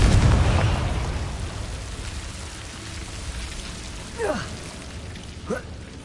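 A Confringo spell in Hogwarts Legacy lands as a heavy blast at the start that fades into a hissing, rain-like crackle, then two short whooshing effects follow.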